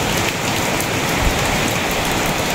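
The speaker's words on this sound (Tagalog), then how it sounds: "Malakas nga po ang ulan dito na naman." Heavy rain with strong wind in a rural rice-farming area, a dense, loud, unbroken hiss of drops drumming on surfaces, close and constant with no voices.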